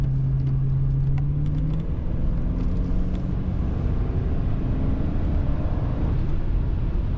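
A 1997 Lincoln Town Car Cartier accelerates, its engine a steady, close low drone with a rising tone early on, continuous throughout with no talking.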